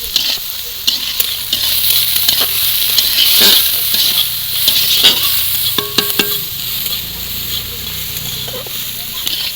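Onions fry in a pan with salt added, a steady loud sizzle running throughout with repeated scraping clicks and knocks of a spoon stirring, close and continuous.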